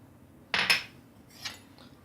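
Dry yeast and sugar stirred in a bowl with a spoon, two short clinks and scrapes close by, then a fainter clink, with no talking.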